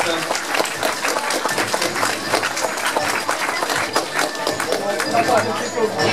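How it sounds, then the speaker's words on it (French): An audience at a school talent show final applauds a student, a dense, loud burst of clapping with some cheering that carries on steadily, with a presenter's voice mixed in. "On peut applaudir Lucas pour cette démonstration d'intelligence."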